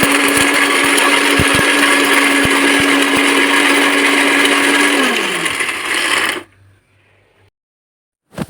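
A mixer grinder loudly whirs through dry ginger in a steady, rattling roar, then winds down and stops, leaving near silence and a final clunk.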